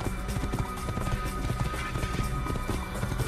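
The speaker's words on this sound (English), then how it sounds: "Gallop." Horse galloping in the Assassin's Creed video game, a fast, steady thudding of hooves, close and continuous, layered over game music.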